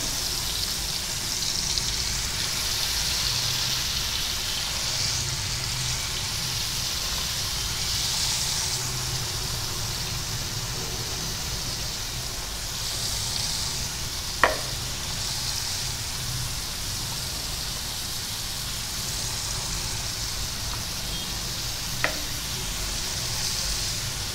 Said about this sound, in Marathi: हे बघा आपलं तेल पण गरम झालेलं आहे कोलंबी टाकून घेत आहे